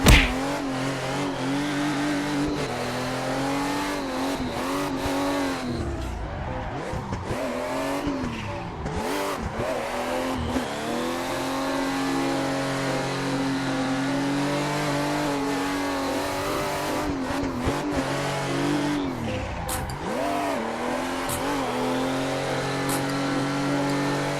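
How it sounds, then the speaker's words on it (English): A race car in the Assetto Corsa driving game revs hard and repeatedly as its tires are warmed for drifting, the engine rising and falling in loud sweeps with brief tire squeal. "let's go ahead and warm up these tires"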